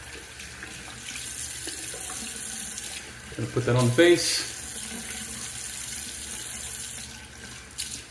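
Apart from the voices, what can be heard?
warm water running from tap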